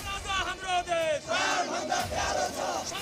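An angry protest crowd in Nepal, at a monarchy and Hindu-state rally, roars and chants in a dense wall of many voices, loud and continuous with rising and falling shouts.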